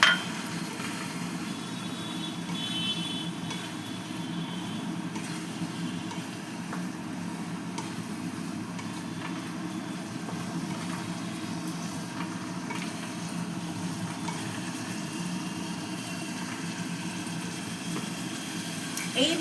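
Boiled, pre-fried potatoes cook in a pan with prawns, giving a steady, even sizzle with faint clinks of utensils, while a person talks over it.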